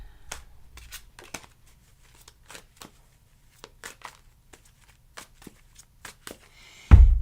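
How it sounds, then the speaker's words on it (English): Tarot cards being shuffled by hand during a reading: a string of light, crisp riffles and slaps at irregular intervals, close and quiet, followed by a louder thump at the end. "I shuffled, you saw me shuffle"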